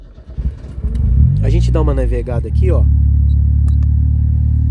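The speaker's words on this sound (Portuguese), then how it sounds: "Eu vou ligar o motor aqui" A car engine fitted with programmable aftermarket fuel injection cranks and catches, then settles into a loud, steady idle under someone talking, with a brief rev near the start.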